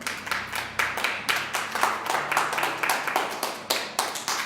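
Church congregation clapping in a brisk, regular rhythm, loud and close, with a faint voice or music underneath.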